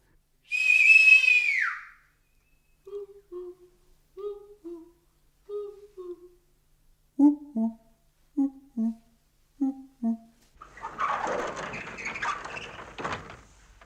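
A man whistles softly: a long sliding whistle at the start, then a series of short, quiet two-note whistled phrases repeated at a steady pace, followed by a shuffling scuffle at the end.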